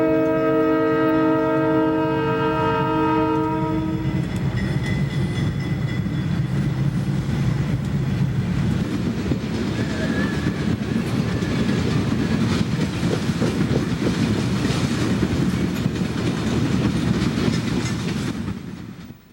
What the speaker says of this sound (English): The Conrail train is moving slowly into the Emerald Mine passing siding to wait for MGA number 2309.